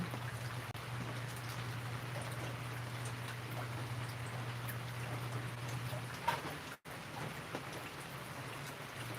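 Light morning rain patters steadily, a soft, even hiss of scattered drops with a low hum underneath and no voices.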